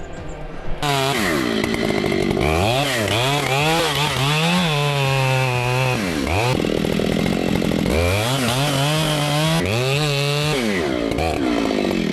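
A muffler-modded Husqvarna 266 XP chainsaw runs loud and close, its two-stroke engine revving up and dropping back repeatedly while cutting a tree, with no voices over it.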